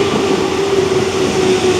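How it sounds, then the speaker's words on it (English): A crowded commuter train at Hyogo station in Japan during rush hour on a rainy day, a steady loud rumble with a constant low hum and no talking. "Look how crowded this train is."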